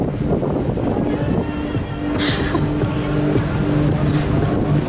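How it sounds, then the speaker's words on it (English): Steady wind gusts across the open deck of a cruise boat, mixed with a low, continuous boat engine drone and rough wave wash, loud and close throughout. "Easy breezy hair blowing in the wind."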